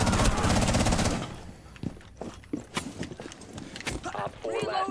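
Rapid automatic gunfire in the first-person shooter Rainbow Six Siege rattles loudly for about a second, then scattered single shots and impacts follow while players talk over voice chat.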